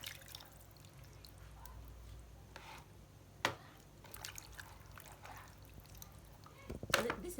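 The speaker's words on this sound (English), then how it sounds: "I'm going to wash these pieces, and then we will marinate it." Raw chicken drumsticks and a whole chicken rinsed under water in a home kitchen, with faint pouring and dripping, scattered splashes and clatters, and quiet talk underneath.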